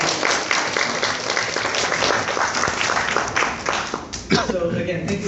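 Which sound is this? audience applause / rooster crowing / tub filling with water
audience applause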